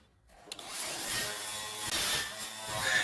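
A power tool cuts steadily through the rear body panel of a 1962 Impala under restoration, a continuous high-pitched grinding whine with brief dips and clicks, close and alone.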